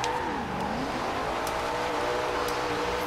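Car drifting in Forza Horizon 2, engine held at high revs in a steady, loud wail with dipping and rising pitch as it slides, tire noise mixed in, no voices.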